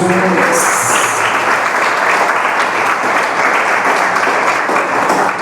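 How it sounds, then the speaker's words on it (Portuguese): A church congregation applauds in a loud, dense, sustained burst of clapping that carries on without a break and then begins to thin out. "Aplauda o Senhor Jesus."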